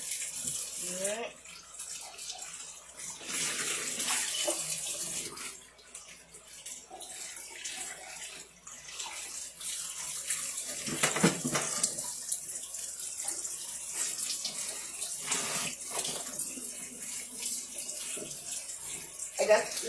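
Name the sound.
running tap water, chicken soaking in cold water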